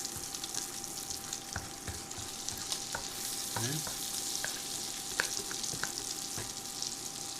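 Food sizzling in a cast iron skillet on an induction burner at high heat, a steady soft frying hiss with scattered pops and an occasional utensil clink.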